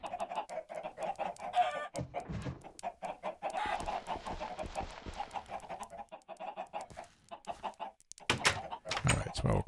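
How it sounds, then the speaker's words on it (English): Many Minecraft chickens cluck continuously in short, overlapping bursts, a busy flock of game clucks at fairly low volume with scattered louder peaks. "there's a whole bunch of chickens in there"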